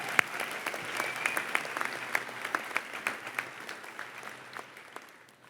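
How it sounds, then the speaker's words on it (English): Applause for donors at a D.C. summer programs closing ceremony in 2019: a room of moderate claps with sharper individual hand claps standing out, steady and fairly close, with no talking. "Students, give a round of applause to our donors who are here."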